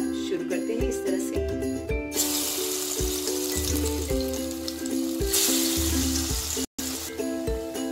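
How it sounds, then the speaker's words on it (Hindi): Chana saag pakoras sizzle and fry steadily in smoking-hot oil in a kadhai, a dense continuous crackle with a louder burst midway; a voice talks over part of it. "तेल इतना गरम होने रखा है कि पकौड़े इसमें अच्छे से फ्राई हो जाए"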